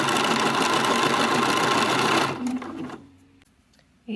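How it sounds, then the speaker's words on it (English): A sewing machine stitches the waistband casing of a vintage-pattern teddy romper with a loud, rapid, steady whirring hum close by for about two seconds, then it slows and stops, leaving near-silence before a short final rattle. "this is how it looks as we're just stitching the waistband casing"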